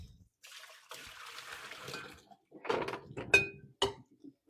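Hot water is poured out in a kitchen: a soft running stream, then after a pause a few sharp splashes and knocks of the vessel, near and fairly quiet.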